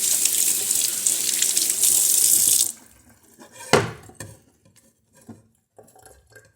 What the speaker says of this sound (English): I need to rinse my hand.